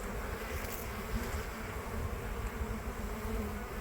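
Honeybees fly in a loud, steady swarm around a hive cut out of a large oak tree, their dense buzzing hum continuous and close with no talk over it.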